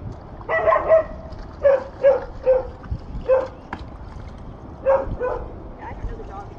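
A large dog barks and yips in short bursts, about eight in a row, close and fairly loud, with a few softer whimpering sounds between them.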